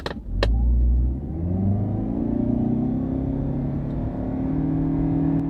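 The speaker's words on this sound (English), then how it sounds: "Not bad acceleration." A new Toyota Camry hybrid accelerates steadily from a start, its engine rising as a loud, continuous interior drone with a brief higher whir at first, and no talk during the pull.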